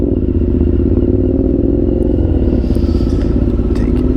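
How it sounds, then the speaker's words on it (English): Steady, loud engine drone of motorcycles ridden by young men cruising through a small town, heard from a nearby vehicle with a continuous low rumble and no talking. "Got some young lads out cruising around on their motorcycles."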